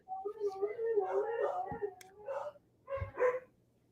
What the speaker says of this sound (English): The big husky, when he barks like that, it's usually because he's being aggressive